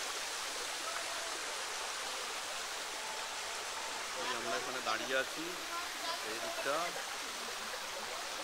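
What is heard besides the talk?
water flowing from Hudhudi waterfall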